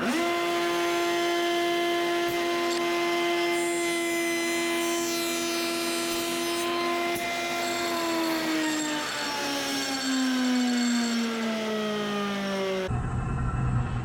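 A router cutter head machines the end of a short wooden door rail clamped against a backer piece, giving a loud, steady high-pitched whine that drops in pitch as the bit bites into the wood, then cuts off abruptly.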